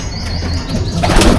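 Wings flap in bursts inside a loft of breeding pigeon pairs, with a few chirps among the flutters. The flapping grows louder and busier toward the end.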